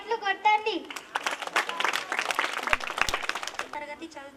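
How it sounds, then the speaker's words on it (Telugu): At a student poetry gathering in a Zilla Parishad high school, a crowd claps in a dense burst of applause between children's voices, which are heard before and after. "చప్పట్లు కొట్టండి"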